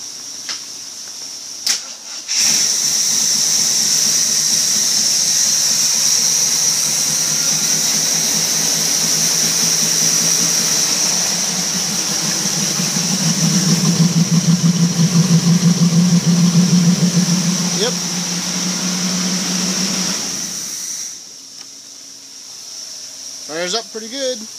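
Jeep CJ engine cranks and catches, then settles into a steady, fairly loud idle that swells briefly before cutting off about twenty seconds later, with a high whine running throughout.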